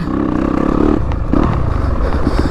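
A Yamaha YZ250FX four-stroke dirt bike engine fires up and runs, a loud rough rumble with rapid clattering pulses and brief revs rising over the idle.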